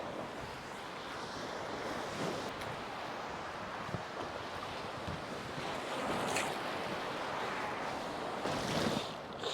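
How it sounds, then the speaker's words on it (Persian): Waves splashing against and into an Intex Seahawk 3 inflatable boat at sea near the shore, a continuous loud wash of surf and water with heavy wind noise buffeting the microphone, swelling in bursts. "اوه اوه اوه، آب داره میاد"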